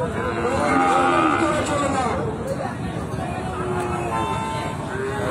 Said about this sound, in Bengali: আর এইখানে জোড়া দেখতেছি, জোড়া গরু